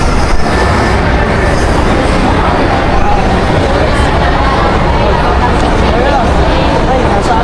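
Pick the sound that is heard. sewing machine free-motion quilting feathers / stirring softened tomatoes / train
train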